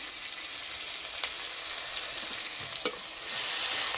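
Garlic paste hitting fried onions in a hot pan, a continuous hiss of frying with occasional stirring scrapes, close and even throughout, nobody speaking.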